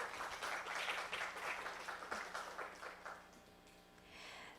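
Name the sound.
audience applause after a talk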